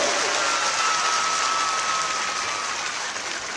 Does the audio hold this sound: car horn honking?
no